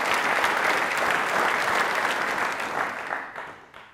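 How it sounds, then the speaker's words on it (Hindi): An audience at an Independence Day quiz program claps loudly for a woman guest, a thick, continuous round of applause that holds steady and then fades away toward the end. "तालियां एक बार जोरदार जाए मैम के लिए"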